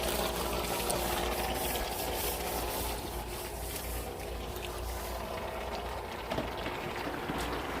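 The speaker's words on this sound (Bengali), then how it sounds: "মোটর দিয়ে আমরা পানি বের করে ফেলবো।" At a swimming pool, an electric pump motor draining the water runs with a steady, even hum and rushing drone at moderate distance, unbroken for the whole stretch.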